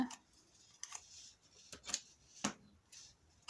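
Scissors make a few quick, faint snips while trimming paper for a handmade gift box, sharp isolated clicks spaced irregularly against a quiet room.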